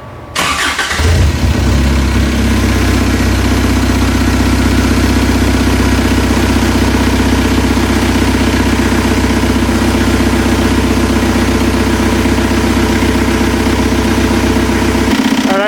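A Toyota truck with a swapped TDI diesel engine cranks and fires up, then settles into a loud, steady, clattering idle close by that runs without letup until it cuts off at the very end.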